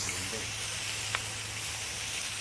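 Meat on a grill sizzles in a steady, even hiss that lasts throughout, with a faint low hum underneath.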